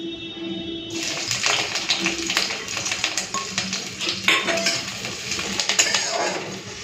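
Chopped onion and slit green chilies drop into hot mustard oil, and a burst of sizzling starts after a quiet hum. Irregular clinks and scrapes of a utensil against the pan continue over the frying.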